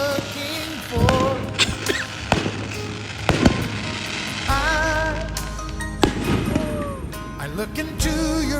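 Fireworks bursting over a seaside resort at Maribago, with a run of sharp cracks and booms spread across the clip, some loud and close, over a steady crowd murmur and music playing in the background.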